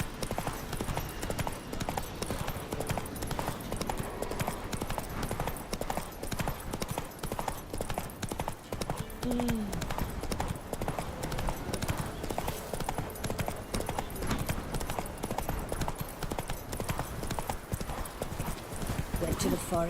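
Roach the horse galloping in The Witcher 3, rapid continuous hoofbeats drumming steadily for the whole stretch, loud and close, with a brief whinny partway through.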